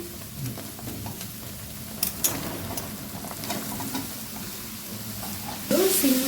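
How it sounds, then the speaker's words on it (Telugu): Sliced ridge gourd fries in a pan with fresh garlic and turmeric for an egg curry, giving a steady low sizzle broken by scraping stirs and a few sharp utensil clicks, with a louder burst near the end. "మధ్య మధ్యలో కలిపి సిమ్లో మీడియంలో పెట్టుకొని మంచి ఉడికే వరకు కలుపుకుంటూ ఉండాలి"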